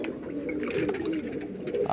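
A Fulshira pigeon coos softly in a few low, throaty notes close by, set against a quiet background.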